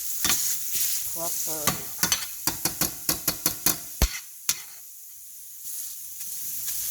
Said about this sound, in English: Using my mashed potato spoon to just mash it out